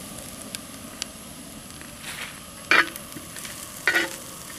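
Spoon stirring chicken fry masala in a pan with crushed bird's eye chilli, coconut, shallots, fennel and curry leaves, a faint steady sizzle broken by two short, louder scraping stirs.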